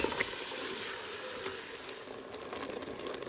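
Beef browning in an Instant Pot on the saute setting, a steady broadband sizzle with scattered pops and crackles, moderately loud and continuous throughout with no talking.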